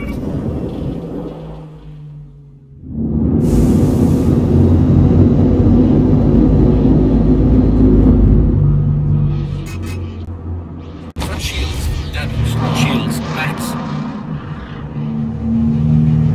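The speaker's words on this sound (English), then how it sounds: "Quantum drive is now on." A spaceship's quantum drive engaging in Star Citizen: a deep engine rumble swells suddenly after a quiet moment and holds, then shifts with a brief cutoff and resumes, with talking over parts of it.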